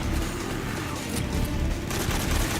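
Dense, continuous AK rifle fire and booming combat noise from Metal Gear Solid 3 roar loudly throughout, with no clear gaps between shots.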